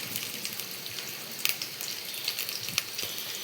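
Red chillies fry in hot oil in a pan for pappu charu, giving a steady close sizzle with scattered crackles and a few sharper pops, with no talking.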